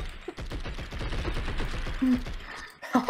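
Rapid gunfire from the Blood and Bacon video game, a dense run of repeated shots that keeps going through the whole stretch, loud and close, with a few brief voice bursts mixed in.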